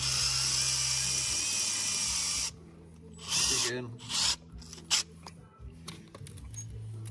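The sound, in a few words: drilling into concrete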